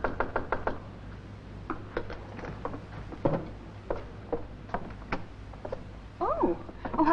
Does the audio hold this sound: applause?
no